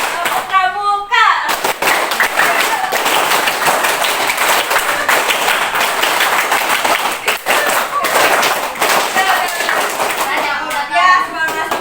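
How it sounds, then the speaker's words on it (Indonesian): Indonesian schoolchildren clap and chant together in a rhythmic scout routine, dense broadband claps and young voices filling the space after a brief opening voice, loud and close. "Tepuk satu, tepuk dua, tepuk tiga, tepuk pramuka."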